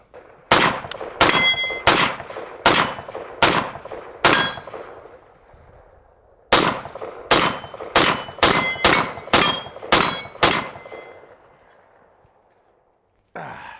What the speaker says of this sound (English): We're shooting probably about 60, 70 feet away, not too far, on steel targets.